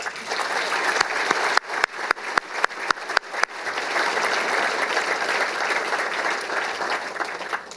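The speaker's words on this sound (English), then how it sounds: "Let's give him a round of applause" Applause from the audience at a university athletics Hall of Fame induction ceremony, a sustained round of clapping from a sizable crowd in a hall, steady and fairly loud, with a few sharp louder claps near the start.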